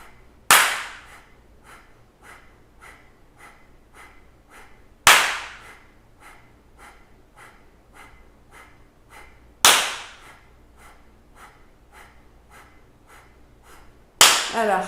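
Single sharp hand claps ring out at steady intervals of about four to five seconds during a kundalini yoga breathing exercise, each clap loud and close, with soft rhythmic exhales pulsing quietly between them.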